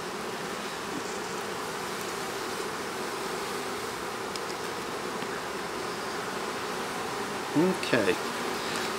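Honeybees at an open hive give off a dense, steady buzzing drone that fills the whole scene, close and constant, with a brief spoken word near the end.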